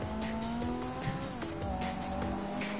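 A car in GTA Online drives with a steady engine drone, tires squealing now and then as it steers, loud and continuous throughout.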